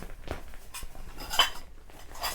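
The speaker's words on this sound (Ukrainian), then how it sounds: "Обов'язково посуд це тарілочка, кружка, веделка і ложка." Light clinks and clatters of dishes and cutlery being handled up close, a few sharp taps scattered through a quiet room.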